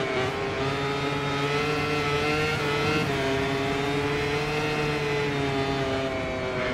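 A MotoGP racing motorcycle ridden by Marquez at the Assen circuit during the Netherlands Grand Prix, coming off the throttle. Its loud, high engine whine holds steady with a slight dip in pitch partway through.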